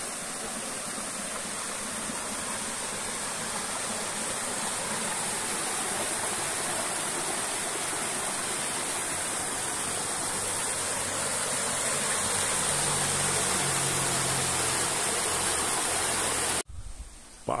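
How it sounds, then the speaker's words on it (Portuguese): Water from a waterfall pours steadily near the source of a stream, a dense continuous broadband rush with no pauses, cutting off abruptly at the very end. "Da cachoeira, essa água."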